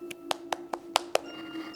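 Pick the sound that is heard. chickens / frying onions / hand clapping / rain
hand clapping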